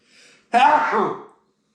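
A short breath in, then a single sharp, close sneeze.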